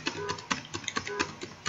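A computer keyboard being clicked rapidly, around a dozen sharp, close keystrokes in an uneven rhythm, heard alone without talk.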